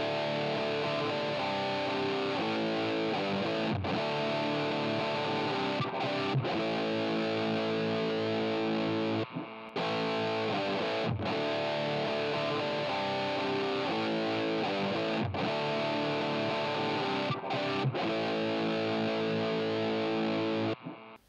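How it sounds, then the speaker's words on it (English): Electric guitar through the Line 6 Helix legacy classic distortion effect, a loud, saturated sustained tone played in repeated chords with a few brief pauses. "the legacy classic distortion on the Helix"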